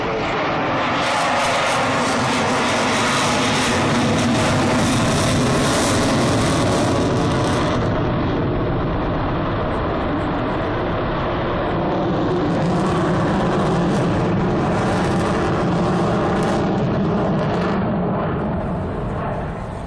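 Loud, roaring Rolls-Royce jet engines of an Avro Vulcan bomber build steadily in power at an air show, a thick continuous rumble with a rising whine, sustained and close throughout.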